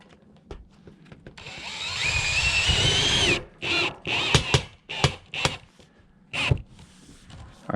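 A power drill drives screws into metal roof panels on an off-grid cabin, one long whining run followed by a series of short, loud bursts with brief pauses, close by.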